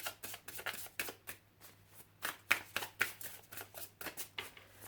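Tarot cards shuffled and cut by hand, a quick run of soft papery riffles and flicks with short pauses between bursts, close and fairly quiet, with no talking.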